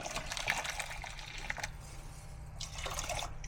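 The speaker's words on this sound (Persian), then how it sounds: "آبی که جوش اومده رو هم اضافه میکنم" Boiling water poured into a pot of Persian rice on high heat, a steady close splashing pour with a few scattered drips and no talk.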